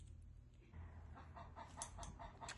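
Chickens cluck faintly in a short, quiet burst of rapid, repeated calls over low background noise.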